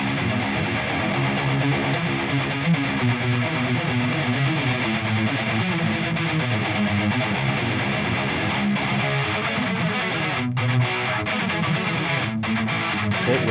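Guitar signal run through a free amp-simulator distortion plugin with a brightness boost and presence and resonance controls, giving a steady, dense, saturated tone that plays continuously without talk.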